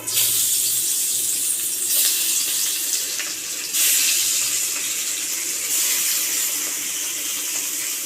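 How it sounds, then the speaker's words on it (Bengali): Bata fish fry in hot mustard oil in a kadai, an intense close sizzle that surges in several waves as the pieces spit and settle, continuous with no speech. "আমি ভেজে নেব"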